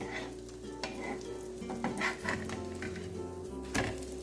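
Bombay omelette cooking in a pan, street-food style, with a steady close sizzle and a few sharp scrapes and knocks from a utensil against the pan.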